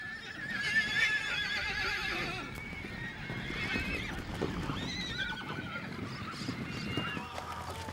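Horses whinny and neigh loudly at close range among the Pantaneiros at the Bahia Don Bosco hacienda in the Pantanal, with hoof clip-clops, bird honks and continuous background bustle throughout.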